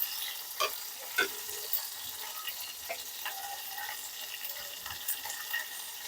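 Curry leaves, chillies and ginger crackle and sizzle in hot oil for a kadhi tempering, a steady close frying hiss broken by small pops and stirring clinks, with no talking.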